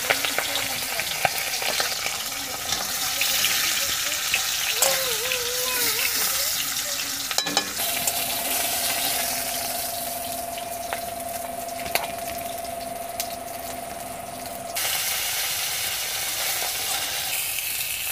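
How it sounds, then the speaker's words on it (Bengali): Tilapia fish frying in a pan of hot oil, a steady loud sizzle and crackle running throughout with brief stirring clatter, alone without talk. "তেলাপিয়াটা ভালো করে ভেজে রাখবো"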